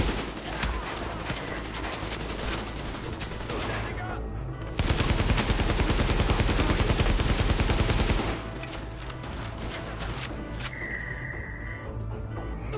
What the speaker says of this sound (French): j'ai peur de me faire démolir par le type avec sa mitrailleuse lourde là